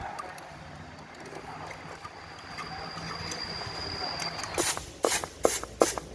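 Compressed air blasted onto the brake parts of a Nubira car during a brake pad change: a low steady background, then several short, loud hissing bursts in quick succession near the end.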